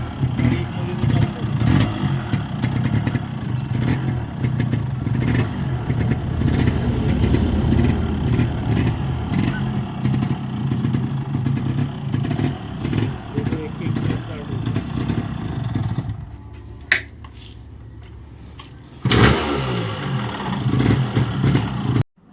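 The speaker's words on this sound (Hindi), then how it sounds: "गाड़ी जो है वो 1 किक स्टार्ट हो गई है और एकदम बढ़िया फायरिंग बनी है" A Yamaha RX135 Tiger two-stroke motorcycle, freshly restored after an engine problem, runs steadily after a single kick start. Its engine drones loud and close under continuous talk, then cuts sharply near the end with brief revs.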